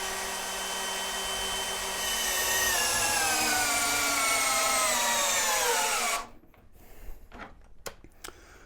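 A cordless drill runs a torque test, whining loudly and steadily, its pitch sagging slightly under load, then cuts off abruptly, followed by a few faint clicks and knocks.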